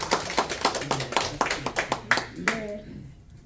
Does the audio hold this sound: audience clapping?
yes